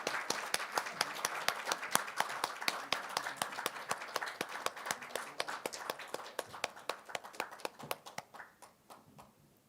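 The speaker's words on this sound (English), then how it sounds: "So please welcome Suni and the Seven Princesses with a big round of applause." Audience applause at a global symposium on low fertility and ageing, a dense burst of many hands clapping that gradually thins and fades toward the end.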